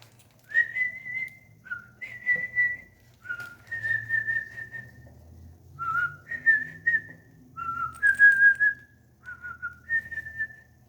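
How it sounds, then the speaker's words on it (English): A magic whistle plays a high, sweet, lilting tune of short rising and sustained notes, with soft low rumbling in the background. "Strange, sweet music came from the whistle."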